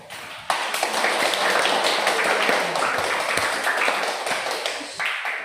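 Classroom applause for a group of students: a burst of many hands clapping starts suddenly, then holds as dense, steady clapping before tapering slightly near the end.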